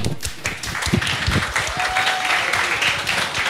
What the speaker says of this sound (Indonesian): Yuk kasih kita tepuk tangan yuk.